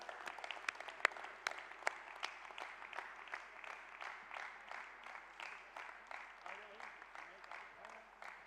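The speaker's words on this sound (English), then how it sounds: "Can we have a huge round of applause for them?" A conference audience at the Rotary International Presidential Conference in Hyderabad applauds, a faint, rhythmic wash of many hands clapping that swells in regular pulses and runs throughout, with a little voice underneath.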